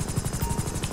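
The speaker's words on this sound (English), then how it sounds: "A helicopter." Helicopter in GTA Online, a steady rhythmic rotor chop with whining turbine hum, close and continuous through the short stretch with no talk.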